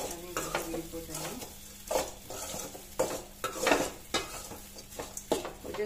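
Ragi vermicelli stirred in hot oil in a pan for ragi semiya upma, with a steady close sizzle and repeated scraping strokes of a spoon against the pan, some sharp metallic clinks.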